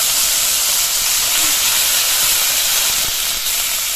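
Curry leaves and dried chillies hit hot oil in a pan, giving a loud, steady, dense sizzling hiss that stays constant throughout without any talking.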